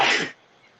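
A single short, sharp burst of breath like a sneeze, loud and close, fading quickly into quiet.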